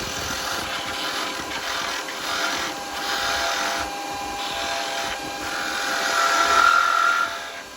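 A small skew chisel cuts wood spinning on a lathe while making a baby rattle, a steady whirring hiss that swells in waves and grows louder toward the end, with no talking.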